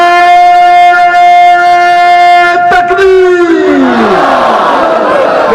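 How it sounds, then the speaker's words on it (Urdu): At an Eid Milad-un-Nabi religious gathering, one voice holds a long drawn-out call, then a loud crowd roars a religious slogan back in unison, close and full. "ہم سارے قربانی دینے کے لیے تیار ہیں تو نعرے کا جواب دیں گے"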